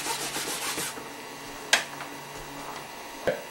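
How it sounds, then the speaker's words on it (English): Paper towel rubs burnt sienna paint onto paper in a soft scratchy rasp of repeated strokes, with a couple of sharp taps standing out. "getting a little bit of the burnt sienna on there, and I'm just going to rub it on here"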